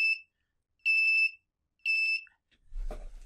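An electronic buzzer on a light-sensor (LDR) circuit, triggered by a shadow, sounds three times in short, steady high-pitched beeps with pauses between, followed by a brief rustle and handling noise.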